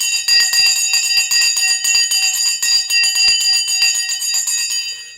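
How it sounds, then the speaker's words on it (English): A bell rings for the stock market open, rapid and continuous for about five seconds, bright and close, then dies away. "The bell is gone."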